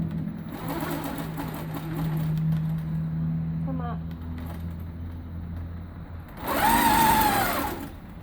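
Longarm quilting machine stitching short quilt lines, a fast mechanical whir in a few passes, the last loudest, with a person talking quietly between runs.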